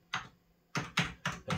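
Keys tapped on a restored Amiga 2000 computer keyboard, a few sharp, close plastic clicks in an uneven rhythm with short quiet gaps, no voices.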